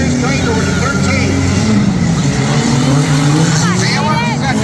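Junk car race cars at a fair racing past, loud continuous engine roar with rising and falling passes close by, an announcer talking over the noise.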